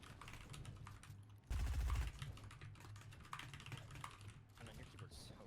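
Loud computer keyboard typing clatters steadily throughout during a Fortnite cash cup tournament stream, with a brief louder burst of game gunfire or impact near the middle and voices talking faintly underneath.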